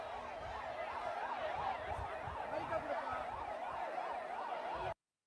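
A 108 ambulance siren wails in a steady rising-and-falling pattern as it moves through a crowd, moderately loud under crowd murmur, then cuts off abruptly near the end.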